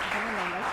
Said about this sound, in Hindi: बहुत सारी तालियां भी हमारे मॉडल्स के लिए।